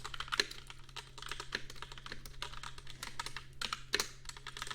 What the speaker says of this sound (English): I like mechanical keyboard sounds.